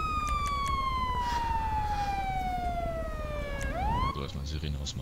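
A police siren in the game FivePD wails loudly in a long descending sweep, then cuts off abruptly and chirps back up, over a low engine rumble.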